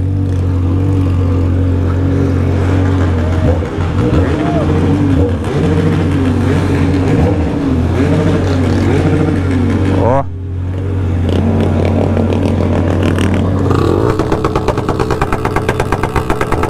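A BMW 1200 motorcycle engine runs loud and steady at a nighttime motorcycle meetup, with rising and falling revs throughout and a brief dip near the middle, while people talk close by.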